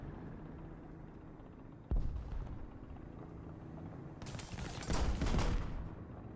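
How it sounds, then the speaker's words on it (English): Video game combat in War Thunder's US 10.7 tier lineup, with a sharp blast near two seconds followed later by a dense, loud burst of rapid gunfire over a constant low engine rumble. "Machine gun me one more time,"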